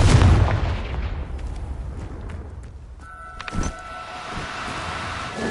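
A fiery Confringo spell blast in Hogwarts Legacy, a heavy booming explosion up front that rumbles and fades, followed by a small crackling thump and lingering game tones.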